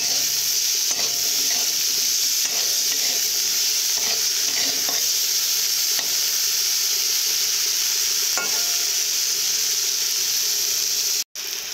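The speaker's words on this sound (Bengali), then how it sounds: "দিয়ে এইভাবে ভালো করে ভেজে নিবে" Steady, crackling sizzle of potatoes and vegetables frying with turmeric in a hot pan, with occasional scraping stirs, continuous and close with no talking.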